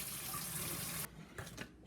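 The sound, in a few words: tap water running in sink, straining shirataki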